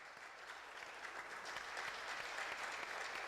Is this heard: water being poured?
no